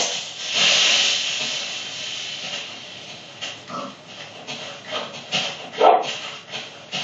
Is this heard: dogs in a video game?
yes